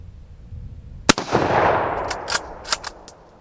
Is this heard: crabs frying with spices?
no